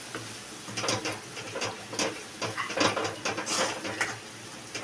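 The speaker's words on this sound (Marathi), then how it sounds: "त्याच्यात आता आपण ॲड केलेलं तेलात चांगलं आता भाजून घ्यायचं आहे" Ground masala paste for a bombil fish curry is fried in oil in a pan, with repeated scraping and stirring strokes over a soft, steady sizzle, close and moderately loud, with no talking.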